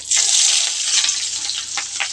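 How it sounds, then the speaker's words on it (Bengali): Chopped onion and green chilli hit hot oil with a loud, steady sizzle that starts abruptly, stays close and bright, then crackles and fades slightly. "পেঁয়াজ কুচিটা আর লঙ্কা কুচিটা আমি তেলের মধ্যে দিয়ে দেবো"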